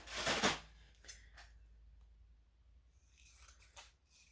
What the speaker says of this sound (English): And then any excess on this side, I can just trim down.